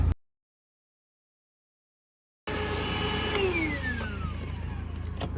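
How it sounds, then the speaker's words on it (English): A vacuum cleaner runs inside a Scion FR-S interior, starting abruptly after a couple of seconds of silence and then holding a loud, steady close-up whir with a shifting motor whine. "This vacuum comes really handy."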